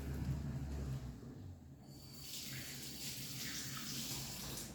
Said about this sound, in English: So let's go wash our hands.